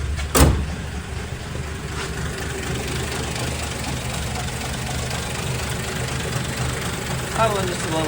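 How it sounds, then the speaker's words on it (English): A Plymouth Belvedere engine idles after a cold start in snowy weather, a steady low rumble with a sharp knock at the start, heard close up with some speech around it. "Idling just a little bit low."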